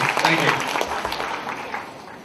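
Lecture-hall audience at a talk on interview preparation for students claps, a loud burst at first that gradually thins and softens, with some voices mixed in.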